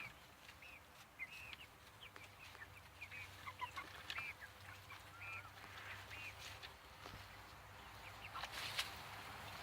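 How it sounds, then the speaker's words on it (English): Chickens in a hoop house, with scattered clucks and calls over steady background hum, fairly quiet and moderately close, with no talking. "So those are my chickens."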